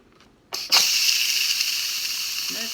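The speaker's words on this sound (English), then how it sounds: "There's still some steam in there." Steam bursts out of an opened Instant Pot pressure cooker holding cooked lentils, a sudden loud hiss after a brief click that keeps rushing steadily and fades only slightly, close by and with no talking.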